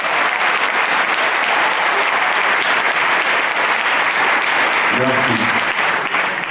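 Audience applauding at an assembly of pastors in Côte d'Ivoire, dense sustained clapping from a large crowd throughout, with a voice briefly speaking over it near the end.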